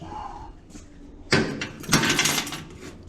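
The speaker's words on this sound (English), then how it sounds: "Door closed on me." A door bangs shut loudly in a casual everyday setting, a sharp impact followed by a second burst of rattling noise, with faint background sounds before it.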